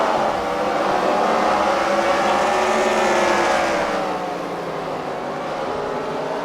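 Real race cars at a fight-night qualifying event at the Freedom Factory roar past on the track, a loud, steady engine drone that swells and then fades slightly as they pass, with no talking.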